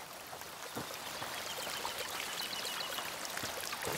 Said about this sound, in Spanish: ¡Agua de manantial! ¿Cómo puede correr con este calor?